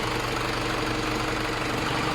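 An Isuzu Elf 4HF1 diesel engine idles steadily right after starting, a loud, continuous knocking rumble that carries on without a break, close to the microphone and with no talk over it.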